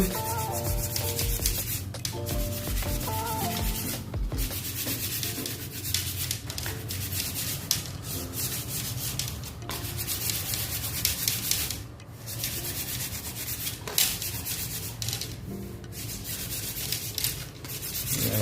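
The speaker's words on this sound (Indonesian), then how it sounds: "Yang bekas kita gosok teman-teman" Steady scraping and rubbing on an old kite frame found among old bamboo, continuous and close for the whole stretch, with faint rhythmic strokes and no talk.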